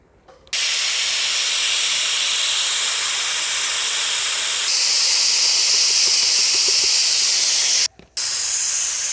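A pressure cooker holding raw mangoes in water lets off a loud, continuous jet of hissing steam, cut off briefly once before resuming.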